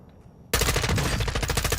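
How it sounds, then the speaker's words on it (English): Automatic gunfire in Call of Duty DMZ bursts in abruptly after a quiet half-second, then keeps up a loud, dense stream of rapid shots close by. "You are taking effective fire."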